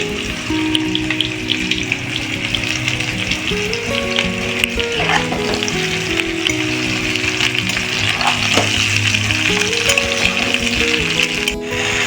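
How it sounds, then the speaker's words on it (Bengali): Pumpkin, radish, stems, ridge gourd and eggplant fry in a pan with a loud, continuous sizzle, joined by occasional stirring clatter, while soft music plays underneath. "কুমড়ো মূলো ডাঁটা খানিকক্ষণ ভেজে নেওয়ার পরে এবারে ঝিঙে আর বেগুনটা দিয়ে দেবো"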